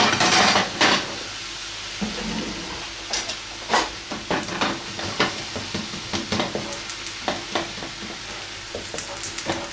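Liver and bacon brown in a frying pan with a loud, close sizzle. Repeated sharp scrapes and clatters of a utensil against the pan come in an uneven rhythm, with no voices.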